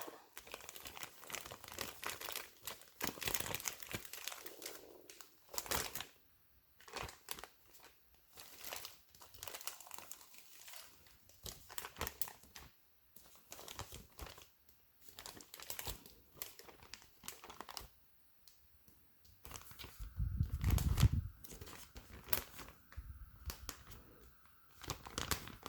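Wet sphagnum moss folded around the roots of a Syngonium Albo, heard as close, repeated crinkling and rustling in irregular bursts with short pauses.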